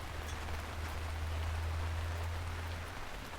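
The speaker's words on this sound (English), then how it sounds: "as rain splattered against the window panes and the wind howled outside" Steady rain beating against window panes on a windy night, a dense, even hiss with a low constant rumble underneath, close and sustained with no voices.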